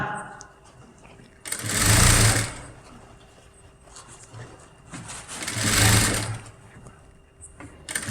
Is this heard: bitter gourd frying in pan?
no